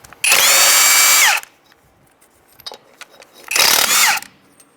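Two long whirring bursts from a power tool spinning off lug nuts on a 1990s Ford F-150 front wheel, about a second each with a short quiet gap of small clanks between, loud and close.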